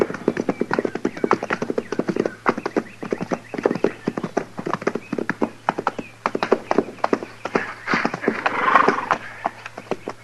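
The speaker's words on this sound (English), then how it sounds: "Come on, let's ride over there." Horses' hooves clip-clop steadily at a walking pace on hard ground as riders move along, with rhythmic distinct hoof beats and a brief swell near the end.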